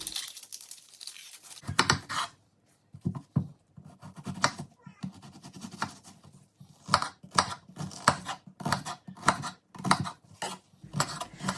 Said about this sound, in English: took the peeling off, cut it in half, and then diced.